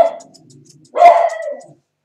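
Miniature Schnauzer barking on a grooming table: one short loud bark burst close by, after a quiet stretch of faint ticking clipper or scissor sounds.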